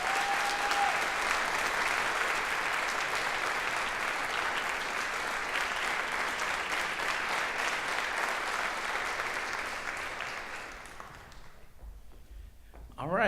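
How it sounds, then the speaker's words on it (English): Sustained audience applause at a county jazz festival after a middle school jazz band performance, a broad steady clapping that holds for about ten seconds, then thins and fades toward quiet at the end. "Let's give him a round of applause."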